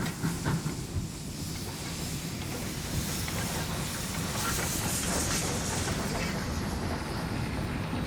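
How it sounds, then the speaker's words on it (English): A 1912 Scottish-built steam engine hauls restored wooden cars on a Patagonian line, a steady rumbling roll with hissing and rail clatter that holds at an even, fairly loud level throughout. "The engine and restored wooden cars, all built in 1912 in Scotland, are well maintained by a preservation society"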